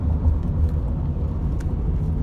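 A Nissan Altima that is down on power, free revving and holding steady around 5,500 rpm, a loud continuous droning engine hum with slight wavering and no talk.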